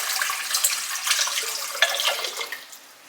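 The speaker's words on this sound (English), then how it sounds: "So we're gonna start with 2 cups of warm water" Two cups of warm water pour into a stand mixer bowl for sourdough bagel dough, a short bright splashing stream that trails off toward the end, with no voices.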